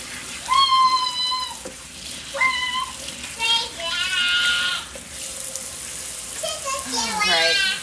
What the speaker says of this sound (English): I'll rinse that dirt off. I guess I might as well just rinse this again.